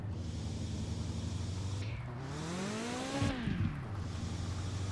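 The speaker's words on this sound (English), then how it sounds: "when the turbo kicks in, it is pretty brutal" Turbocharged car engine in Mon Bazou revving up hard, a steady drone climbing sharply in pitch, then dropping back with a brief rough burst, loud and close, with no talk.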